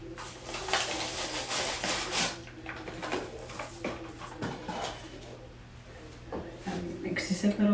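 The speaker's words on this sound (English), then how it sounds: "mix this a little bit" Spoon scraping and stirring through a mixture of cream corn, milk and Jiffy corn muffin mix in a bowl, a soft, steady rubbing and rasping that comes and goes in short strokes.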